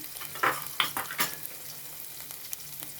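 Crushed ginger and garlic frying in a pan for a spicy sardine curry, a soft continuous sizzle broken by a few louder scraping stirs early on, fairly quiet and close.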